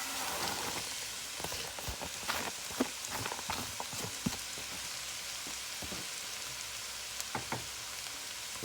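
Onions and leeks sizzling and crackling in melted butter in a pan, a dense steady frying hiss with scattered pops throughout, close and alone.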